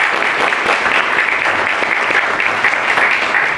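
Audience clapping at a youth forum event with invited speaker Hong Joon-pyo, a dense, continuous round of applause at steady loudness for the whole few seconds.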